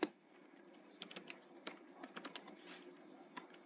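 Quick, irregular key clicks on a computer keyboard as someone enters a line of text, soft and fairly close, with a louder tap at the very start and a few scattered bursts after.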